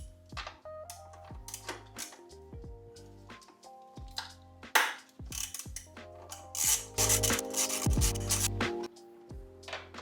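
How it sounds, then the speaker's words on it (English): A 10mm bolt is being backed out of an engine cover with a ratchet, making repeated close clicking pawl strokes and metallic turning noises in irregular bursts, with no talking. "So it looks like we have to remove this 10mm bolt right here."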